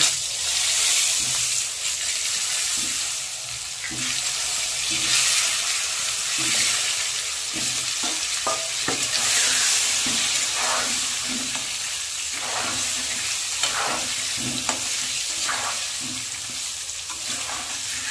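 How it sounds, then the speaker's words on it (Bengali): Potatoes fry in hot mustard oil with salt and turmeric in a kadai, giving a constant loud sizzle and hiss broken by repeated scraping stirs, close up and without talk. "ওতে দিয়ে দেব অল্প করে নুন আর অল্প হলুদ দিয়ে প্রথমে আলুগুলোকে ভেজে নেব।"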